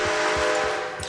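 A train in a video game rolls by with a sustained whistle-like horn tone over a low rumbling chug, loud and close in a brief burst.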